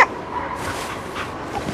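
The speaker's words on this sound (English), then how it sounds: "And let us send your wonderful dogs back" A dog yips and whimpers briefly in the icy Arctic setting of the video game Cryostasis, a short close burst of canine sounds over a steady noisy background.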